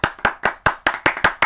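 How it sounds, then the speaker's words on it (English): About seven sharp handclaps from a single nearby person, landing in a quick, even rhythm during a casual baseball podcast chat. "round of applause for San Diego"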